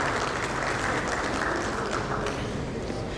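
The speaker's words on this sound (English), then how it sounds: "A big round of applause for him." Audience applause for a speaker leaving a panel session on digital customer experience, a steady, dense wash of clapping sustained evenly from start to finish.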